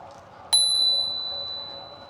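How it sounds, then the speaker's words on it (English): A single bicycle bell rings once, clear and bright, and its tone slowly fades. It sounds during a cycling descent of Mamhead Hill toward Starcross, against quiet road and wind noise. "Give her the bell."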